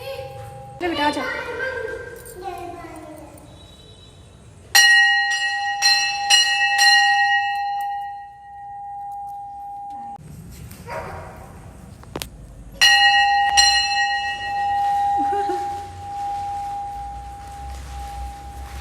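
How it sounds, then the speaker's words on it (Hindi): A small bell rung during a Jitiya puja in Jharkhand, sounding clear, sustained ringing tones in two bursts with a pause between, mixed with a voice and household chatter before and after. "घंटी बजा रही हो?"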